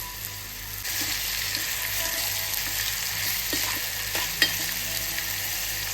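Finely chopped tomato fries in a pan with onion, making a continuous close sizzle and hiss with a few soft stirring knocks throughout.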